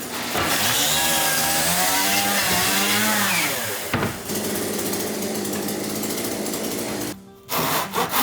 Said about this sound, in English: Now, I'm taking out the horizontal trim called nageshi in the Japanese style room.